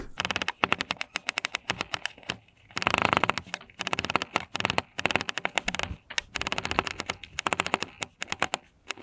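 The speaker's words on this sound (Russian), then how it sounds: "Дальше нарезаем чеснок." Fast, dense knife chopping of garlic on a board, a rattling flurry of quick strikes in repeated bursts, close and loud.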